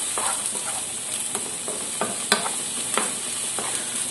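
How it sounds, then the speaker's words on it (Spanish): Salted ingredients sautéing in a pan for a rustic Galician tuna empanada, with a steady soft sizzle and several scraping strokes of a utensil stirring through the food. "ya le echamos una pizca de sal y removemos un poco para que se vaya rehogando"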